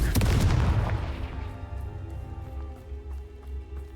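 A Confringo blasting spell goes off in Hogwarts Legacy: one loud, close explosive burst at the start that rumbles and decays over a few seconds into a low, steady ambient drone.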